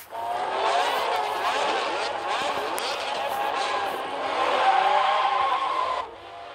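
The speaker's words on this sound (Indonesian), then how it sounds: "Menggunakan mobil Safari Rivale guys." Safari Rivale race car in the Asphalt 8 video game, a loud continuous engine roar with skidding and tire squeal for about six seconds before dropping off, no speech.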